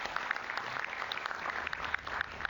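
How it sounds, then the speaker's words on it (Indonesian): An audience at an Indonesian talk show applauds, a steady patter of many hands clapping at a modest distance, faint and continuous, with no speech over it. "Sekali lagi kita berikan tepuk tangan yang meriah untuk Prof Ikrar Nusa Bakti."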